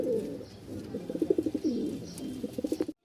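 A pair of Rajshahi floor pigeons coos close by in soft, rolling bursts that quicken into rapid pulsing throbs, repeating several times with no speech over them.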